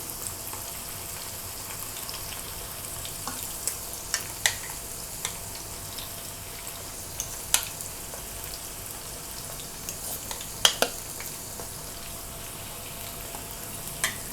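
Chicken pieces for orange chicken deep-fry in hot oil, giving a steady close sizzle with scattered sharp pops and crackles throughout, and no talking.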